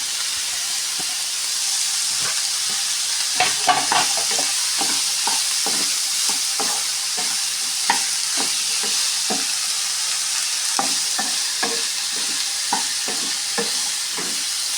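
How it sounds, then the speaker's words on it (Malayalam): Capsicum, green chilli and potato stirred together in a frying pan for vegetable biryani, giving a steady hot sizzle with repeated scraping and clinking stirring strokes, close and continuous, with no talking. "അത് എല്ലാം കൂടി ഒന്നിച്ച് ചേർത്ത് കൊടുക്കുന്നുണ്ട് ഞാൻ"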